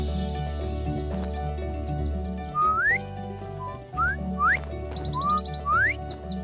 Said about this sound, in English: That one is called a finch.